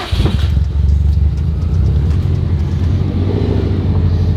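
A Subaru WRX STI engine idles loudly up close after a brief rev, a deep steady rumble with a low throbbing pulse and no talking.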